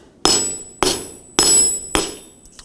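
Four sharp, ringing hammer blows on a hardened steel punch driven through steel plate, evenly spaced about half a second apart, each loud metallic strike decaying quickly.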